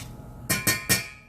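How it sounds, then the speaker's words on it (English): A utensil stirs shrimp and grits in a pot, clinking sharply against the metal three times in quick succession, each knock bright and close with a short ringing tail over a quiet background. "Give it a stir, cut down the heat."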